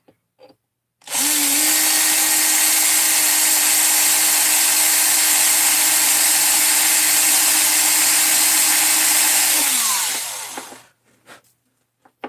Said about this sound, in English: Just gonna drill this here.